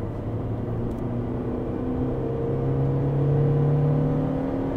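A 1991 Honda CRX VTEC EE8 engine held at about 4300 rpm gives a steady, close droning hum that rises slightly in pitch and loudness toward the end, with no talking over it.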